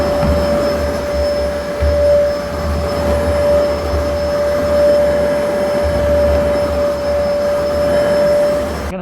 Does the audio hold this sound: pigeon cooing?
no